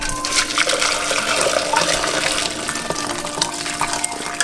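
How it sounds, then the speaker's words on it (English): Beef ramen broth strained through a strainer into a large bowl, a steady loud pouring and gushing of liquid close by with no talking. "now we're gonna strain it, and then we'll have clean broth left over"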